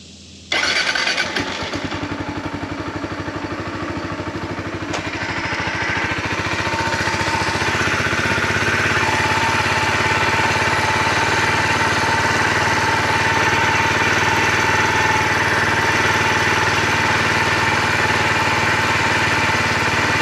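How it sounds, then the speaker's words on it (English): Kawasaki Z125 motorcycle engine cranking and catching after an oil change, then settling into a loud, steady, close idle that runs on for many seconds. "you want to start the bike, let it run idle"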